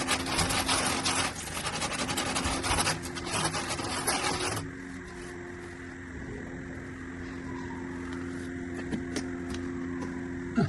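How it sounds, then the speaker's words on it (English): Sandpaper is rubbed by hand during a drainage pipe fitting job, making a dense, rapid scratchy rasp for several seconds before it stops and quieter background noise with faint knocks takes over. "Some more sandpaper."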